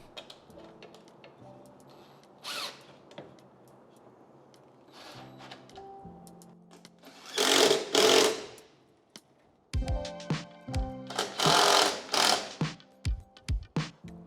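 A power tool drives screws to fasten an alloy steel coolant line guard under a Tesla Model 3 or Model Y, in several short whirring bursts with brief pauses, close and fairly loud, after quieter clicks of handling parts.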